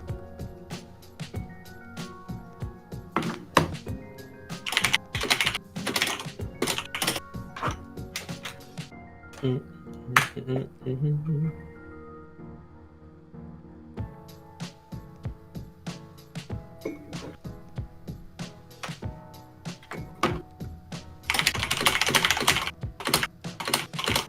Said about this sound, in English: Are you just bashing your keyboard randomly?